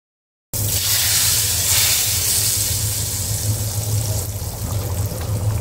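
Hot oil mixed with fried chili powder is poured straight over hilsa fish for mustard hilsa. A sudden loud hiss and sizzle bursts in and holds steadily for about five seconds, close and continuous, with no one talking.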